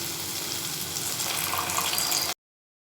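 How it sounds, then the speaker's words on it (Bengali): Spice masala with turmeric, salt and ground coriander frying in a pan after water is added, heard as a steady, close watery sizzle and bubbling hiss that stops abruptly. "এরপর খানিকটা জল দিয়ে একটু কষিয়ে নেব।"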